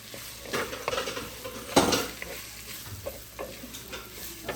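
Crab pieces are being cleaned in a bowl, with an irregular run of knocks, scrapes and clatters as the pieces are handled against the dish. One louder clack stands out partway through. No one talks.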